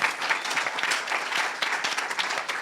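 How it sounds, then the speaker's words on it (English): An audience claps steadily, a dense continuous patter of many hands at moderate volume with no voices over it. "can you give yourselves a round of applause for being a good audience?"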